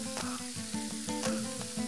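Whole cloves, cinnamon and green cardamom sizzling in hot oil, a brief close crackle with small repeated pops and spatters, no voices.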